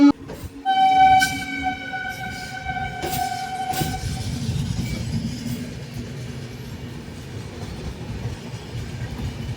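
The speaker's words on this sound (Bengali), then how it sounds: "গাড়ির সিগন্যাল হয়ে গেছে আমরা ট্রেনে উঠে পড়বো" A local train horn blasts loudly near the start, followed by the steady rumble and rattle of rail cars rolling past.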